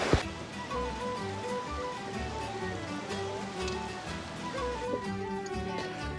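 A small waterfall on the shaded Ben Nevis hillside makes a steady, moderately faint rush of falling water that continues evenly throughout.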